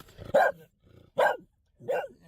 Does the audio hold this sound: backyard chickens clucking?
no